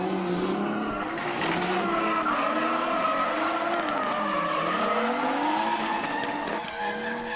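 A Nissan 240SX and 350Z drift at an outdoor motorsport event, engines revving hard with rising and falling pitch under continuous loud tire squeal, the cars fairly close and the noise steady throughout.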